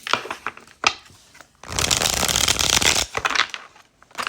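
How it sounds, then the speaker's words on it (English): A tarot card deck is shuffled by hand in a quiet room, with brief card flicks and riffles followed by a sustained, close, crisp stretch of shuffling lasting over a second, then a few lighter taps. "Let's shuffle."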